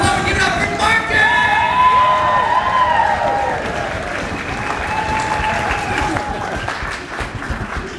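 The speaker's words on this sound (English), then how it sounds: "Make a huge amount of applause on deck." Sustained audience applause and cheering at a poetry slam final at a writers festival, a dense roar of clapping hands with whoops, loud and continuous, slowly easing toward the end, with voices mixed into the crowd.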